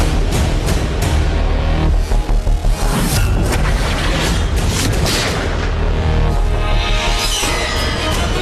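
Loud bursts of gunfire and heavy booms from a Bengali TV drama fight scene fill the whole stretch, dense and continuous with crash-like impacts and no speech.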